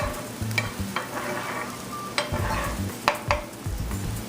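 Filet mignon steaks sear in a hot pan with steady sizzling and crackle, punctuated by a few sharp clinks of utensils against the pan, close and moderately loud.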